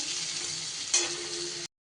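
Potato and pumpkin frying in oil, a steady close hiss of sizzling with one brief louder flare, then the sound cuts off abruptly.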